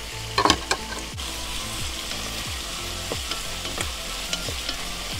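Chicken stir-fried into Chinese-style fried rice in a pan, a loud continuous sizzle with repeated rhythmic scrapes and tosses of a spatula, no talking.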